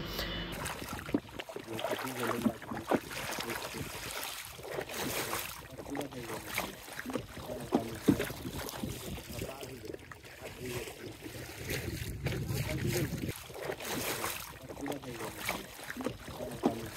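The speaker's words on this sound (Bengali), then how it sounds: "লগি দিয়ে নৌকা ঠেলে ঠেলে যাওয়া হচ্ছে।" A wooden boat is poled across the water with continuous close sloshing and lapping along the hull, steady and uneven, while low voices murmur in the background.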